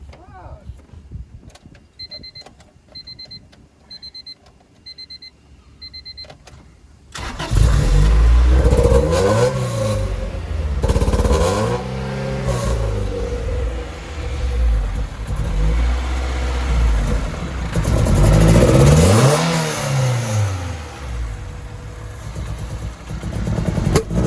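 After a chiming alarm, a car engine with a newly installed exhaust roars to life and revs repeatedly, rising and falling in loud surges close by, with occasional voices underneath.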